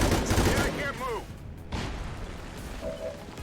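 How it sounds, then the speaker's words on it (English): Sustained suppressing gunfire in XCOM 2, a loud rolling volley at the start fading into scattered distant shots, with an electronic chirp and a voice speaking over the combat. "Good suppression shots."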